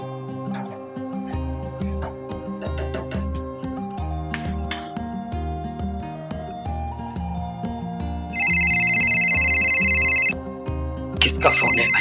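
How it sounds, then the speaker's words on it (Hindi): A mobile phone ringtone trills steadily for about two seconds over a bed of background music in a Hindi crime drama scene. "किसका फोन है भाई?"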